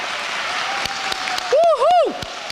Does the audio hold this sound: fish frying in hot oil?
no